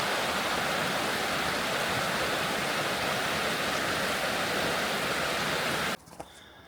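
A winter river near Châlucet in France rushes steadily in a dense, even roar of flowing water that cuts off abruptly near the end.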